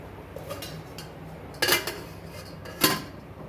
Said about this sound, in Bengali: একটু ঢাকা দিয়ে দিই।